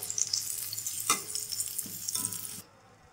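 Finely chopped onions browning in cooking oil for chicken white biryani, a close, bright sizzle with a few stirring knocks, cutting off abruptly near the end.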